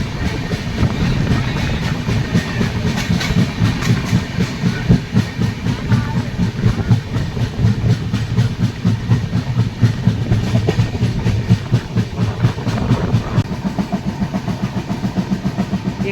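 The New Delhi - Malda Town Express runs at speed, a steady loud rumble with fast rhythmic clickety-clack of the wheels and a constant hiss, heard from on board.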